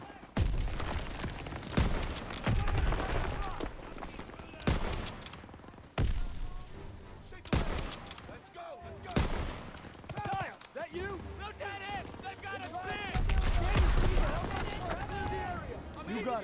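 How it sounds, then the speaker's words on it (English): Bursts of gunfire in Call of Duty: WWII crackle repeatedly throughout, mixed with busy in-game noise and a voice talking over the action. "Gunfire! It must be near our guys."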